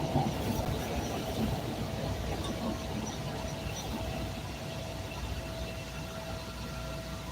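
A Chicago CTA Red Line train runs toward 95th, giving a steady low rumble of wheels on rails with a faint sustained tone, heard from inside the car and alone without talk.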